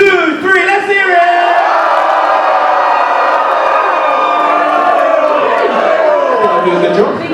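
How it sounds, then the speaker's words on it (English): A student audience at a university Strictly dance event roars its loudest cheer on cue, a sustained wall of shouts, whoops and screams that swells and holds close and loud for several seconds before easing. "on the count of 3, we want to hear your loudest cheer"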